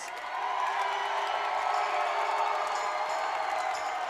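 A crowd at a Synergy FC 18 fight night cheers and whoops for fighter Garrett Cross, a steady roar that holds at an even level throughout with a little faint speech mixed in.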